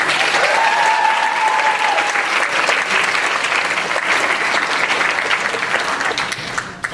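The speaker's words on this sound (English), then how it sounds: "we give them a round of applause" Sustained applause from a seated audience at a graduation ceremony, steady clapping of many hands continuing for several seconds, with a faint voice briefly over the start.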